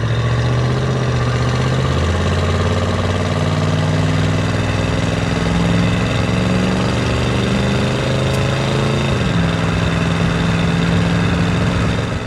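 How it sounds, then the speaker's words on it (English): The 396 big block V8 in a 1966 Chevrolet Impala, paired with a Turbo 400 automatic, drones loud and steady, its pitch climbing slowly before it drops back. "let's go ahead and get into the throttle here and test out this big block"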